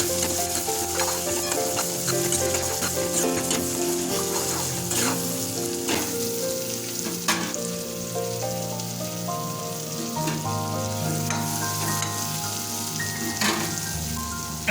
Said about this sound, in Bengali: এখন এটাকে আমরা মিনিট 5 ধরে চিংড়ি মাছগুলো ভালোভাবে ভাজা করে নেব।